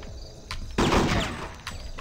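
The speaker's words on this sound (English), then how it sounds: "This is like a silenced weapon." Silenced weapon firing in Hitman 2, a short muffled burst of shots with a couple of softer pops before and after, fairly close and alone without talk.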